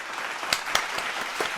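A small group gives a soft, sparse golf clap during a podcast, a brief patter of light claps with a few sharper individual hits, fairly quiet and without talk.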